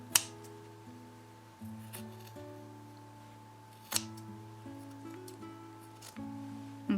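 Scissors trimming excess fabric close to a sewing seam, a few crisp snips spaced several seconds apart over soft background music.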